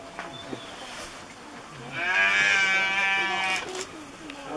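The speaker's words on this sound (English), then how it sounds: "Look, who's upset the sheep?" A sheep bleats in one long, wavering cry midway through, fairly close and loud over a steady outdoor background hum.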